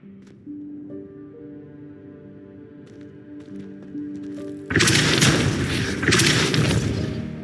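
A Depulso spell cast in the Hogwarts Legacy video game: quiet tonal game music gives way to a sudden loud whooshing burst of noise, followed by a second surge of noisy blast.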